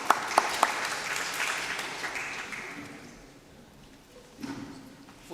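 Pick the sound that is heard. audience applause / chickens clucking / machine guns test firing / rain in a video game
audience applause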